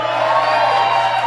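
Crowd at a bar, a brief, loud burst of cheering and whooping voices blending together, sustained for just over a second.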